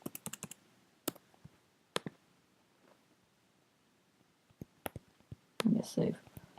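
Keys clatter on a computer keyboard as a password is typed: scattered, sparse clicks and short bursts of keystrokes, close and fairly quiet, with a denser, louder clatter near the end.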